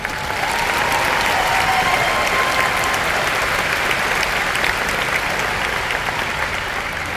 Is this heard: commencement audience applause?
yes